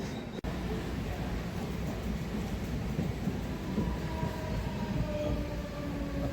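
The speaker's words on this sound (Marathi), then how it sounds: "हा सेंट्रल लाईनचा ट्रेन जाते, ते खालून जाते" A Central line local train in Mumbai passes below a bridge with a steady, loud rumbling roar that lasts throughout, with faint rail hum and a brief knock near the start.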